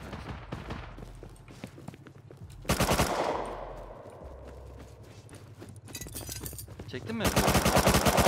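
Gunfire in the Rust online game during a raid: repeated sharp shots in bursts, including a loud cluster near the middle and a dense volley at the end, with players talking over them.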